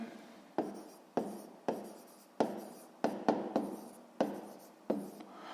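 A pen writes an answer on paper in a series of about nine short, scratchy strokes, each starting sharply and fading, spaced roughly half a second apart, close and quiet with no talk.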